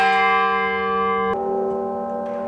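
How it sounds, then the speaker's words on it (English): The largest bell of the Scottish Rite Cathedral tolls, its clapper pulled by a cable from a strike below, a loud rich peal whose humming overtones ring on and slowly decay, with a second soft stroke near the end. "that's the largest bell that I just rang"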